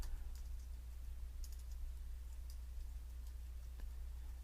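Keyboard typing on a computer, a faint run of light, scattered key clicks close by over a steady low hum, with no talking.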